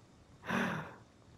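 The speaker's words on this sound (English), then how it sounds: "I can hear somebody breathing really heavily." A character in the Friday the 13th video game heaves one heavy, gasping breath, a single loud sigh-like exhale that swells and fades within about half a second.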